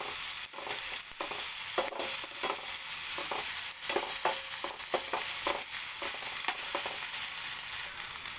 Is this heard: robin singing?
no